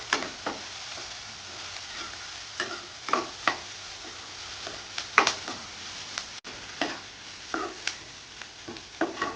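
Onions frying with salt in a pan, a steady soft sizzle broken by scattered clicks and scrapes of stirring, close and moderately quiet, with no talking.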